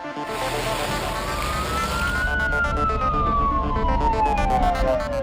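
An ambulance siren on an emergency run wails steadily, its pitch sweeping up and then slowly down, over a constant rumble of road and engine noise.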